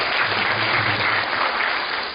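Congregation applauding at a Korean church testimony service, dense steady clapping from a crowd that fills the whole moment at even loudness, with no voices over it.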